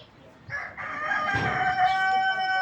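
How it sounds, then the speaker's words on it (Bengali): A rooster crows loudly and close at a farm in Saudi Arabia, one long drawn-out call over the clucking of chickens, with faint voices in the background. "ওইদিকে শুধু মুরুগ আছে"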